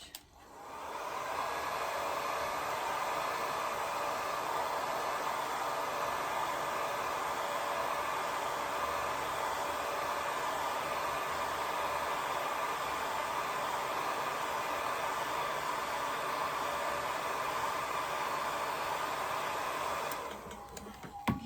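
A hair dryer blows steadily and fairly close for about twenty seconds as it dries a watercolor painting of a pink rose, a constant broadband rush that cuts off at the end.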